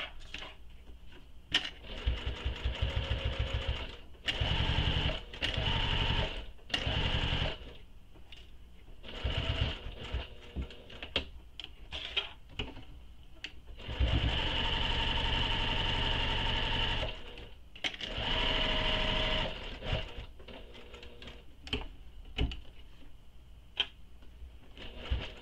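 Sewing machine stitching the structural side and bottom seams of a mini crossbody bag, with close, rapid mechanical chatter in repeated runs, short stops and starts between passes.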